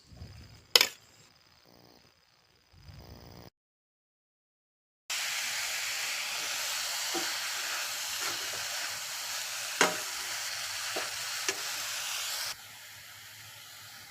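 Ground amla (Indian gooseberry) sizzles in coconut oil in a pan for pickle, a steady hiss that starts after a pause and holds for several seconds, with a few sharp clicks before it and scattered ticks within it.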